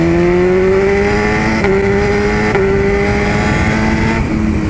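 A sport motorcycle, apparently a Ducati superbike, revs hard while riding, its loud engine note rising steadily through the gears with brief dips at each shift, close and continuous with no talk.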